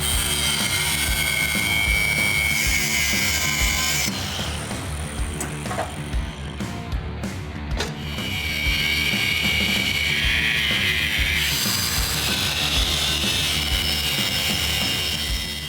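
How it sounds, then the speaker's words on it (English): Steel spring hanger brackets on a tow truck chassis being cut, a steady loud grinding-saw drone running throughout with a brief softer dip midway before resuming at full strength. "We're going to end up cutting about 1 inch out of the spring hanger"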